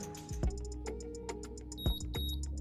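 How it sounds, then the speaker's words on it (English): Two short electronic beeps from an Ellard DC2 alarm receiver sound close together as a transmitter is deleted, over a background of rhythmic ticking and low clicks. "you will get a double beep"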